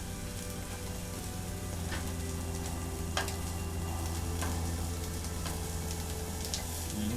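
Red and green peppers sizzle steadily on a buttered griddle, a continuous frying hiss with scattered pops and light scraping, fairly close and consistent throughout.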